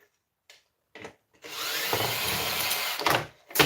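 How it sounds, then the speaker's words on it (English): Power drill backing screws out of scrap to free the steel, a few short bursts and then a long steady whirring run with rattling, close and loud, with no talk. "all I'm doing is undoing every screw I can see"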